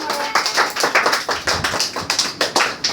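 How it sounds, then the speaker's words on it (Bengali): A group of children claps together at a tutoring-batch birthday celebration for Rabindranath Tagore, a quick, uneven patter of many hands, close and steady for a few seconds. "সবাই হাত হাততালি দাও"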